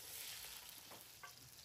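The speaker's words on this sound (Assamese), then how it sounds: "কুটি ৰখা জলকীয়া পিঁয়াজ তেলত দি ভাজি লৈছোঁ।" Chopped chilies and onion fry in hot mustard oil, a steady close sizzle with soft stirring scrapes running the whole short stretch.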